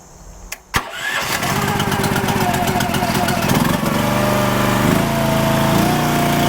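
A small log splitter engine cranks with a couple of sharp pulls, then catches and settles into a loud, steady chugging run that continues to the end.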